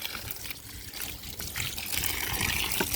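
Water poured into a container outdoors, a soft continuous trickling and splashing that grows slightly louder toward the end.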